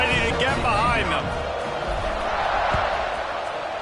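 A stadium crowd roars in College Football 26 as a South Carolina game heads to a fourth-quarter kickoff, a steady broad wash of noise under continuous commentary.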